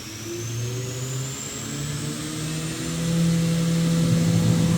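Spindle of a Feeler VMP-1100 4-axis CNC vertical machining center spinning up to 10,000 RPM, a steady mechanical whine with tones rising and growing louder toward the end, heard close and alone.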